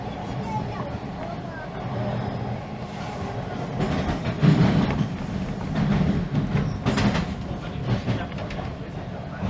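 A Toronto subway train arrives at Young Station: a rolling rumble builds with rail clatter and brake hiss, and a voice sounds over the noise.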